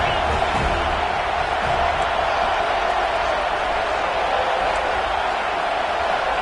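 Stadium crowd in a college football video game cheers as a steady loud roar with no breaks, a dense wash of noise throughout.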